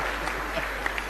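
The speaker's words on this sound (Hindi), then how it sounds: "और अब की आपकी तालियां उठेंगी" Audience applause at a comedy poetry performance, steady dense clapping filling the whole short moment with no gaps.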